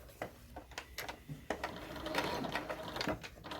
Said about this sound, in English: And I'm sewing 1/8 of an inch all the way around.